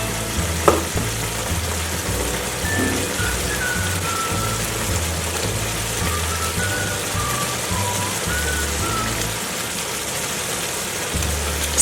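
Sardines heating in a simmering tomato and onion sauce, a steady close crackling sizzle with faint clinks of a utensil and a low background hum.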